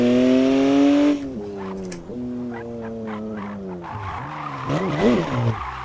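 Tires skid and squeal during a handbrake drift attempt with a widebody BMW M4 in Assetto Corsa on Topanga Canyon Road, a loud engine tone dropping off into wavering, wailing tire noise.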